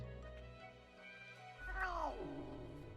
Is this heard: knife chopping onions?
no